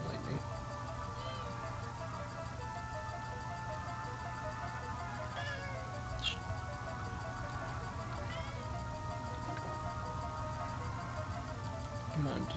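A cat meows a few times indoors, fairly faint, under a constant bed of video game music and a person talking.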